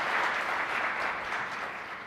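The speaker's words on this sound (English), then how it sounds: "So we think we should please all give them another round of applause for their participation today" An audience at a business conference applauds the speakers, with dense, even clapping filling the room at a steady level and no talk.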